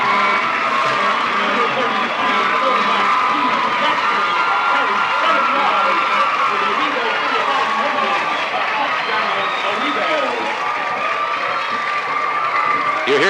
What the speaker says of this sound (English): You hear the cheer in the background.